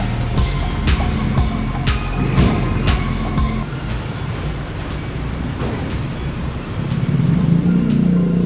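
A truck idles and rumbles near a bridge construction site on a toll-road project, preparing to load an excavator, with repeated clanking metal impacts and a steady engine drone that swells toward the end.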